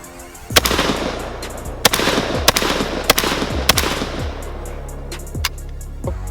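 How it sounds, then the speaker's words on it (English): JTS AK12 airsoft shotgun firing five shots at a steel plate, sharp loud cracks at irregular spacing, each followed by a short ringing tail, close by with no talk. "We're gonna put all 5 shots on the left plate."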